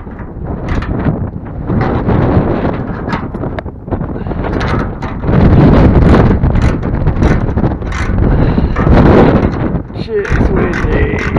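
Strong wind buffets an outdoor microphone during work on a prototype vertical-axis wind turbine built from an oil drum, a steady loud rumbling roar with heavier gusts partway through.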